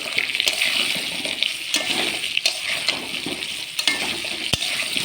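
Potatoes frying in a pan with salt and turmeric, stirred steadily, giving a continuous close hiss and sizzle with scattered scraping clicks from the spoon.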